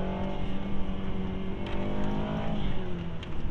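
A BMW 330i F30 fitted with a BMS air intake runs steadily, its engine a continuous loud drone with harmonic tones and a slight rise in revs, close to the car with no talking.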